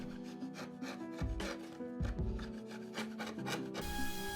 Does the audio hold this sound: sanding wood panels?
yes